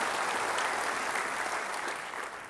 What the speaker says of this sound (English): let's give everyone involved with the New North Village project a big round of applause for this fantastic project